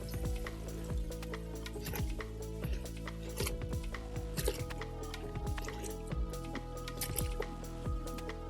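Water poured onto about five kilograms of leaves for homemade organic fertilizer makes a faint, continuous splashing and trickling with many small drips and squishy bursts throughout, with no talking.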